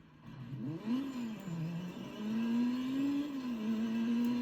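Car in the racing video game Burnout Legends revs and accelerates, its engine tone wobbling up and down early and then climbing into a steady, moderately loud whine heard alone.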